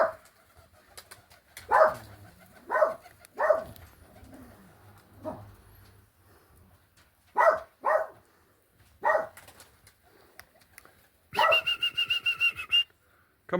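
A dog at a pigeon loft while young birds are being settled gives a few sharp barks spaced out over several seconds, mixed with pigeons cooing and a whistle-like trill near the end.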